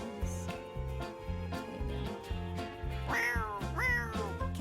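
A kitten meows in a life-simulation video game, repeated mewing calls over a steady rhythmic game music backing, fairly close and clear against the tune.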